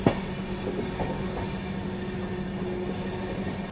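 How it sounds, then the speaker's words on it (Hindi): The Dakshin Express takes a curve into Bina Junction, its wheels squealing in a sustained high whine over a constant close rumble of carriages on the rails. "क्या खूबसूरत सा कर्व लेके हमारी गाड़ी एंटर कर रही है बिना जंक्शन को"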